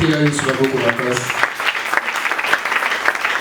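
A church congregation claps loudly and steadily in a large hall, with a voice heard briefly at the start over the applause.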